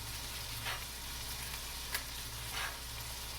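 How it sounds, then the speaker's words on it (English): Chopped red bell pepper and celery sautéing in a pan, a continuous low sizzle with a few soft stirring swishes spaced through it. "Get that sauteing really good and bringing out all of those delicious flavors"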